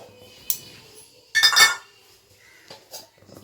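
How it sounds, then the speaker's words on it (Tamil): Metal cooking pot set onto a kitchen stove while making tiffin sambar: a sharp clink, then a louder cluster of clattering metallic knocks, followed by a few fainter taps, all fairly close. "அடுத்து இன்னொரு பாத்திரத்தை அடுப்பில் ஏற்றிக்குவோம்"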